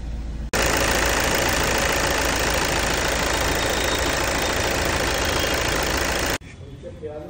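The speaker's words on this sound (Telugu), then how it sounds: "కొత్త ఆయిల్ చేంజ్ చేశాక ఇంజన్కి ఒక 5-10 minutes రన్ చేయాలి ఐడిల్లో" A car engine idles on fresh oil just after an oil change, a steady, even running hum held for several seconds before cutting off abruptly, with quieter background sound afterward.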